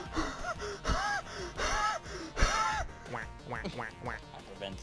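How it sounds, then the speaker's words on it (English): Breathless gasps come in a rapid run, loud and close, with duck quacks in Duck Game following right after. "Hyperventilation."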